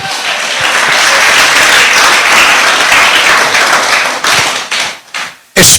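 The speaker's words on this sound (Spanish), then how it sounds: "Denle un fuerte aplauso a Dios." A church congregation at an evening service breaks into loud, dense applause that holds steady for several seconds, then thins into scattered claps and fades near the end.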